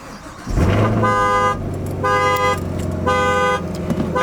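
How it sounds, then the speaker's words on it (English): A Chevrolet Corvette alarm blares close and loud in repeating pulsed bursts of tone, with a low idling engine hum running beneath. "I set off the Corvette alarm on accident"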